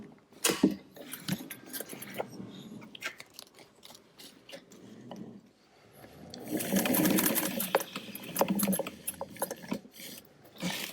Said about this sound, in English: All right, let's sew it.